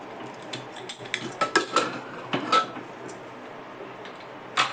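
A cooled pressure cooker lid is twisted and lifted off after cooking spinach and dal, giving a series of close metallic clinks, scrapes and knocks in irregular bursts, with no talking.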